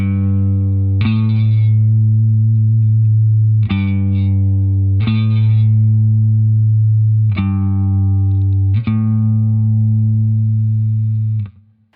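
An electric guitar with chorus and distortion effects plays a major second interval. Sustained, loud tones are restruck about five times at a slow, even pace, with a thick effects-laden ring and no voices.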